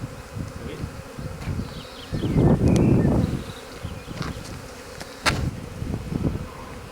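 A swarm of honeybees clustered on the drawbar of an agricultural trailer buzzes close and steady, swelling louder midway and again near the end.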